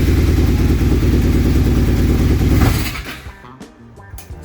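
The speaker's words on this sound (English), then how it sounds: "So the bike starts." Kawasaki KZ440 motorcycle engine running loud and close, a steady low rumble that cuts out about two-thirds through, leaving a few faint clicks and taps.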